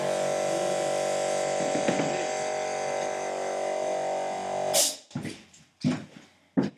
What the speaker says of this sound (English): just turn the compressor off